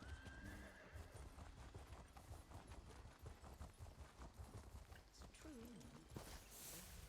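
Horse in the Elder Scrolls Online game clip-clopping at a walk, hooves thudding steadily up close, with a couple of short whinnies and a loud rushing burst near the end.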